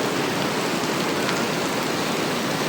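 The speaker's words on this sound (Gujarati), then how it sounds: "નહીં જોતા પણ કેટલો વરસાદ આવે છે" Heavy rain pours down in a dense, even roar with no pauses or distinct drops standing out, close and loud throughout.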